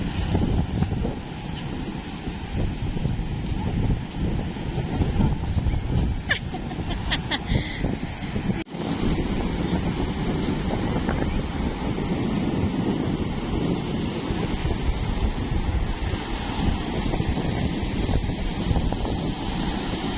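Steady wind buffets the microphone on the beach at Houlgate, Normandy, a constant low roar with faint surf beneath and brief muffled voices.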